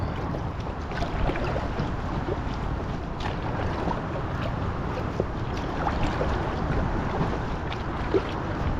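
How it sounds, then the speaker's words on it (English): River water laps and slaps irregularly against an inflatable kayak's hull, with gusty wind rumbling across the microphone throughout. "there are some relatively large waves here. You can probably see them slapping against the hull there"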